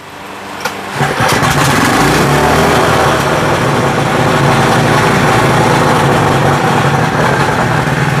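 A Honda brush cutter's small petrol engine is pull-started, catching after about a second and then running loud and close as a steady high-pitched buzzing drone without pause.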